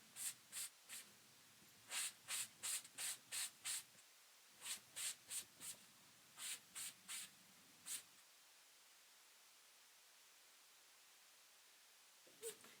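A magic eraser scrubs paste off a screen in a pumpkin craft project, with a run of quick rhythmic rubbing strokes in two bursts, then a pause and one last short scrub.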